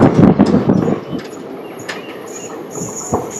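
A passenger train rushes past close by from the opposite direction, a dense burst of rumbling wheel noise that fades over a few seconds, with a brief high whine and faint clatter trailing off as it recedes.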